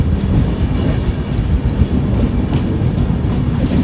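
Bagmati Express running from Darbhanga toward Mysuru, rolling steadily along the track with a continuous loud low rumble and faint wheel clatter, carried on unbroken through the whole stretch.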